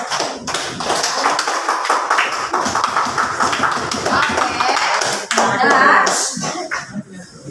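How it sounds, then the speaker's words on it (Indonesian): A class of students claps for several seconds in a math classroom, a patter of many hands, with voices mixed in. "Oke, tepuk tangan untuk semuanya dulu."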